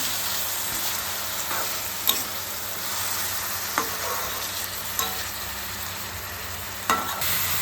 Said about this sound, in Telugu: ఒక 2 ఉల్లిపాయలు చిన్న చిన్న ముక్కలు కింద కట్ చేసుకుని వేపుకుంటున్నానండి